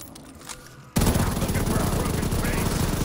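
An MG42 machine gun rattling off a rapid, continuous loud stream of shots in COD Zombies, kicking in abruptly after a quieter moment with faint talk.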